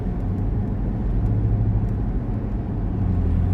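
Passing road traffic making a continuous loud low rumble with engine hum swelling and easing, nearby vehicles rolling by steadily, no voices.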